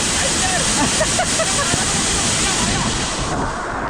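A monsoon waterfall pours in a steady, loud roar of rushing water close by, with wind buffeting the microphone and a faint voice underneath.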